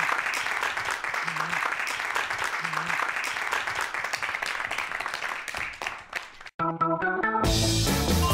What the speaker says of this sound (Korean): 강연 박수로 청해 듣도록 하겠습니다